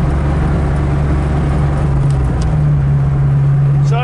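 A 1994 Bondurant Mustang with a five-speed gearbox cruising on a test drive, its engine giving a steady, loud low hum from inside the cabin with a slight pitch shift midway.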